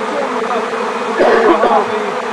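A swarm of bees buzzing around an apricot tree, a loud, dense, continuous drone from many insects close by that swells briefly in the middle.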